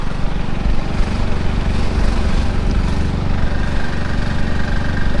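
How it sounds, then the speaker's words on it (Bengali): A motorcycle engine drones steadily and close while riding through forest toward hills, a continuous low rumble with constant vibration and no voices. "আর আমরা এখন বাইকের মধ্যে ঘুরছি"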